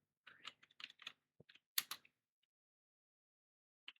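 Typing a search query on a computer keyboard, faint quick key clicks in a short burst followed by near silence and a last tap.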